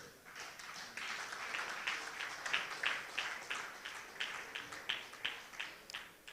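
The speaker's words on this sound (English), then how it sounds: "give a strong hand clap to the journalists that won awards tonight" Crowd clapping at a national journalism awards ceremony in Uganda, honouring award-winning journalists; the claps start as a blended patter and settle into a distinct rhythmic beat of hand claps, moderately far off.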